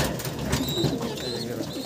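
A pair of racing pigeons in a loft keep up soft, continuous, close-up cooing, a low rolling burble heard alone without speech.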